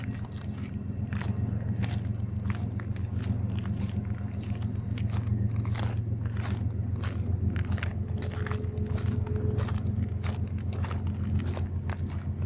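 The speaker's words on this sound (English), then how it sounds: "The crunch of the snow and ice." Footsteps crunch over snow and ice near Emerald Lake, British Columbia, a rapid run of sharp, close crackling steps over a steady low rumble, with no talking.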